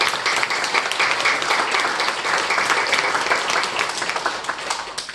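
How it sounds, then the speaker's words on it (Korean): A congregation at a Korean religious gathering claps together, a dense, sustained round of applause from a room full of people, steady and fairly loud throughout. "그래서 박수 드리고 싶습니다."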